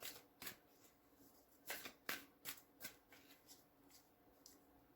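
Quiet, crisp riffling bursts as a deck of tarot cards is shuffled repeatedly, each flutter short and close, with soft pauses between.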